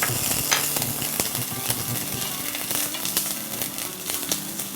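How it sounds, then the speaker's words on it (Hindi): Butter with garlic and ginger paste sautés in a karahi, a constant close sizzle with sharp crackles and spatters scattered throughout, no voices. "तो हम थोड़ा सा सौटे करते हैं।"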